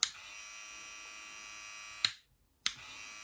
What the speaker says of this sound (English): So this is the run test, first run test of this clipper. This is very quiet.